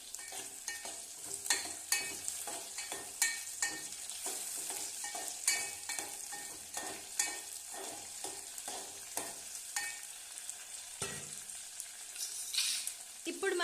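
Gongura leaves frying in a covered pan for chutney, a steady close sizzle with frequent sharp stirring scrapes and clicks throughout, no voices.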